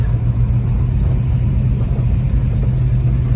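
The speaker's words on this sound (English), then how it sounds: "A Boss 302 Mustang out for a little spin today." A 1970 Ford Boss 302 Mustang V8 cruises on a warm day, its deep steady engine rumble loud and close, likely heard from inside the car, with an even low drone and no voices.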